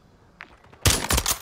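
A sniper shot rings out in a battle royale video game, a sudden loud crack followed by a burst of heavy gunfire after a quieter stretch of small sounds.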